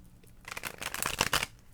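Tarot cards being shuffled up close, a brisk riffling burst lasting about a second, with no voices.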